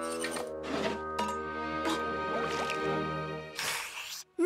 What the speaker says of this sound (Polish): muszę się napić wody